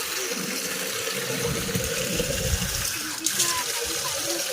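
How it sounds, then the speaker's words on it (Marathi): Water splashes and pours steadily onto the soil around a young lemon tree in a village yard, a continuous close gush while people talk. "हे पाणी टाकूया ना यावरती"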